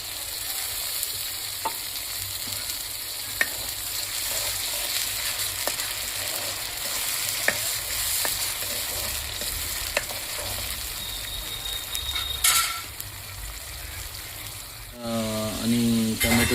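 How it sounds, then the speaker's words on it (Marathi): Tomato paste fries in oil in a pan, a steady soft sizzle with occasional stirring scrapes and clinks, and a brief voice heard near the end. "टमॅटोची पेस्ट फ्राय झालेली आहे, तेल सोडत आहे"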